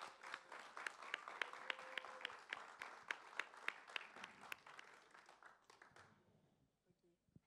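A studio audience gives a burst of applause and clapping to welcome a guest onto a French talk show. It holds loud and dense for several seconds and then fades away.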